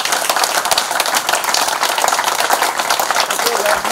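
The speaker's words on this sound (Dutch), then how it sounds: "Hartelijk applaus." Warm applause at a Dutch royal decoration ceremony in St Hubert honoring a new member of the Order of Orange-Nassau: dense, even clapping from a gathered crowd, sustained and fairly loud throughout.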